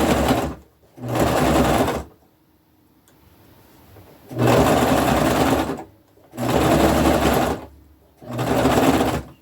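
A small domestic sewing machine stitches an upcycled braided fabric rug, running in loud, close bursts of steady mechanical whirring, four main runs of about two seconds each separated by short pauses.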